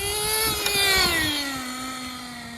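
HotBodies Tornado RC car with a small nitro engine screaming at high revs, a thin buzzing whine that peaks and then settles slightly lower, close and alone.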